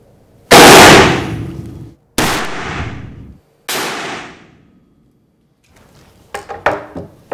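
Three loud black-powder musket shots boom out in succession, each a sharp blast with a decaying rumble, followed after a pause by softer clatter and knocks.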